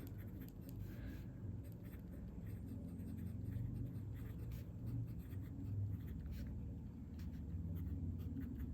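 A fine-nibbed fountain pen scratching lightly across paper, a soft, continuous writing rustle, faint and close, with small strokes and pauses.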